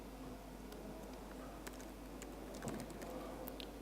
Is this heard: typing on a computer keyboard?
yes